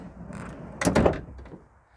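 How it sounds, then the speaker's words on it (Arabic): The rear door of a Fiat Doblo Combi is opened with a quick latch click and a dull thunk, close and fairly quiet, with nothing else around it. "اول حاجه نحلوا الباب"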